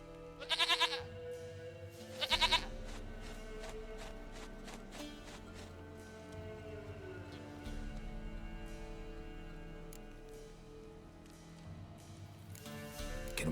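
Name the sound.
goat bleating in The Witcher 3 video game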